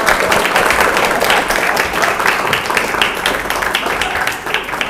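A group at SMK Sejahtera school in Jakarta applauds, with dense, steady clapping that carries fairly loud and close for the whole stretch.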